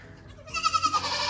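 A goat on a farm that keeps Southdown sheep lets out a single wavering bleat, loud and close, with a quivering, rippling tone lasting about a second.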